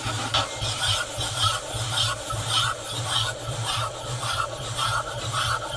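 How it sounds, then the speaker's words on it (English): Rhythmic rasping strokes of sandpaper on a wooden mast step for a Lagoon 37 catamaran, back and forth at a steady pace, close and fairly loud. "start sanding."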